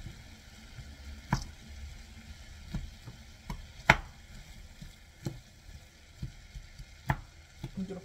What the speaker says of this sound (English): I'm gonna try to just fry the potato in small pieces